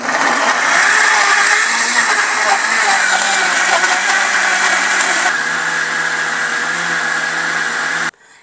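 A kitchen blender grinds galbi-jjim broth ingredients with a little water in a loud, steady whirring drone whose pitch shifts slightly as the contents break down, cutting off abruptly at the end.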